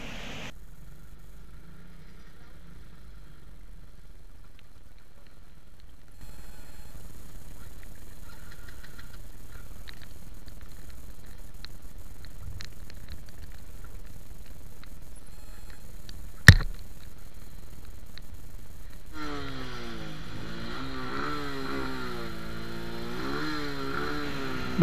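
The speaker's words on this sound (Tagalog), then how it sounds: "Buti na lang umandar na ulit ang ating motor" A long stretch of low hum, a sharp click, then a small motorcycle engine restarting after a breakdown, revving up and down with wavering pitch.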